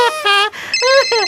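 A telephone in a children's cartoon rings in short harmonic bursts, two rings with a brief gap, loud and close, with voices around it.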